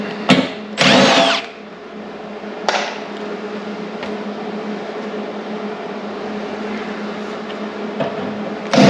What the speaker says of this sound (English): I'm also watching when I drill these